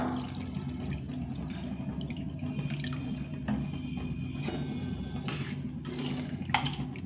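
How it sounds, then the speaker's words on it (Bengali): Water runs and splashes into a pot of fish-head ghonto being cooked, a steady pouring wash with faint drips and the odd clink of the pot, no talking. "দিয়ে দেবো পরিমাণ মতো জল"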